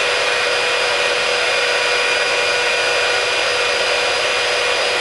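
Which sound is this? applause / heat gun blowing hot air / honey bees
heat gun blowing hot air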